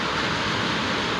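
A waterfall on a wilderness hike in the Hoover Wilderness near Yosemite gives a steady, broadband rushing roar, even and unbroken throughout the brief moment, with no voices.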